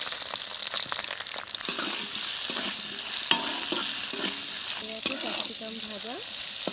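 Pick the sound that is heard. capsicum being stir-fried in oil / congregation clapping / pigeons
capsicum being stir-fried in oil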